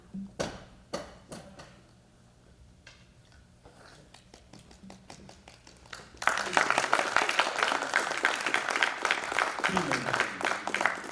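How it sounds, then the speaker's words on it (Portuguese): An audience at a journalism event bursts into applause partway through, dense clapping arriving suddenly and holding loud after a quieter stretch of sparse taps and small noises. "Obrigado pelas palmas"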